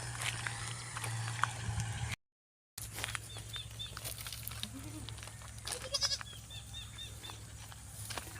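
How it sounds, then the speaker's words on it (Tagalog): Goats bleat intermittently outdoors by rice fields, with a steady low hum and scattered rustling; a brief gap of silence interrupts the sound. "Ang daming kambing na nagliliwaliw."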